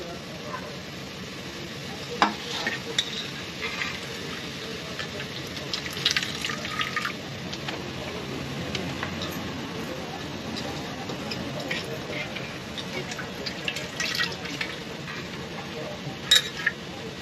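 Amaranth leaves tossed into hot oil in a pan, giving a steady soft sizzle with scraping stirs and occasional clinks, under light background noise and some talk.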